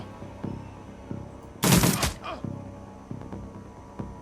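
A burst of gunshots from the video game Shadowrun Returns rings out as one loud, tight cluster of rapid shots partway through, set against quieter game sounds and soft thumps.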